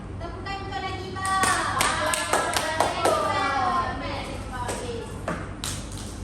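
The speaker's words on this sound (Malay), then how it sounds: "Berikan tepukan untuk Nagibah." Children in a primary classroom clap for a classmate, a short scattered burst of small hands clapping over a speaking teacher and kids' voices.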